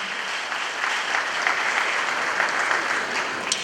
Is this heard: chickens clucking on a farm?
no